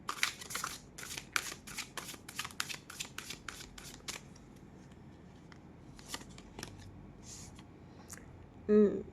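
Oracle love cards being shuffled, a quick run of crisp riffling flicks up close for the first few seconds, then scattered softer card handling and slides, ending with a brief low thump.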